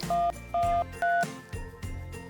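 Telephone keypad dialing the emergency number 112: three short, evenly spaced beeps in quick succession, each clear and close, followed by a softer run of muffled tones.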